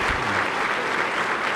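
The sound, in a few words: Senate round of applause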